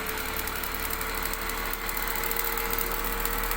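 An electric series machine runs up to speed on a lab bench, producing a steady mechanical hum with a fixed tone and a constant rattling vibration, with no voices.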